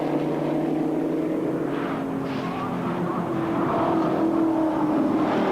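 A race car running down a hill on a track, heard as a steady, distant engine drone with a rising and falling tone against a constant rumbling background.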